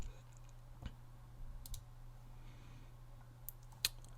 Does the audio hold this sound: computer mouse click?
yes